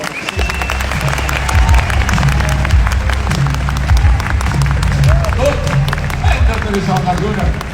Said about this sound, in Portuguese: mais salva de palmas para o doutor Rombó